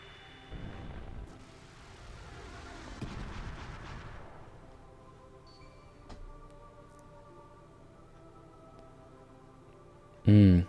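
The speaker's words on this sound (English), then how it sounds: "Give you a fireball. And a fire pillar." Fireball and fire pillar spells in the Chrono Cross remaster game, heard as rumbling, crackling blasts early on that fade into quieter menu tones, ending with a loud sudden burst.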